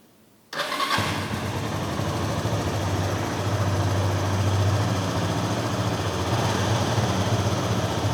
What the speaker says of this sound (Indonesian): Oke, sekarang kita nyalakan mesinnya.